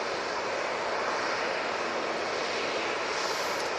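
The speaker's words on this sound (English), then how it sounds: "Tui coming down now towards us." A TUI airliner coming down to land produces a steady, broad engine rush overhead, constant in loudness for a few seconds, with no voices.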